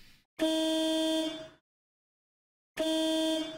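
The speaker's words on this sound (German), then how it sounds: "Und hauen mal auf die Hupe." Two loud, bright bus horn blasts in the video game OMSI 2, each about a second long, separated by a clean silence; a steady electronic-sounding honk.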